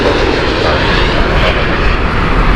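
A Boeing 787 airliner lands at Heathrow Airport, a loud, steady roar of jet engines that fills the clip without a break.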